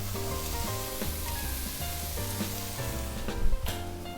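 Onions and celery sautéing in butter for a vegetable stew, a continuous close sizzle with faint stirring scrapes and a brief louder spatter near the end.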